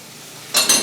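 Sausages and other meats frying in a pan for a full English breakfast, a low hiss for half a second, then two close bursts of sizzle with faint clinking.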